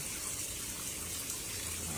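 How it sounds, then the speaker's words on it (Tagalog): Shower water running steadily at home, a continuous hiss and splash of spray at moderate level with no talk over it. "It's my shower."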